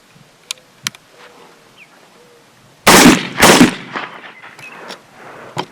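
A Cimarron double-barrel shotgun fires twice in quick succession toward a 50-yard berm outdoors, two loud sharp blasts with a short echoing tail, preceded by faint clicks and light handling noises.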